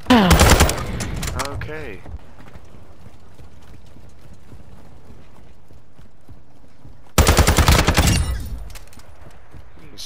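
Loud bursts of rapid automatic gunfire in a first-person shooter game, one at the start and another near the end, separated by quieter game ambience, with a brief spoken word.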